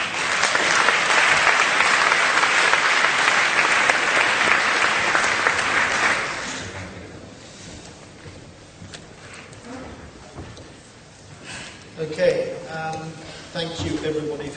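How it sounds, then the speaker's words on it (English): Audience applause at the Cannes Lions debate festival event, a dense sustained wash of clapping for about six seconds that fades out, followed by a quieter room with a voice beginning to speak. "A round of applause, please."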